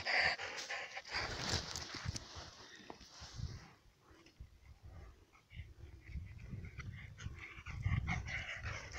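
A dog scuffles and pants nearby outdoors in nature with soft growling and whimpering sounds, fairly faint, amid rustling movement.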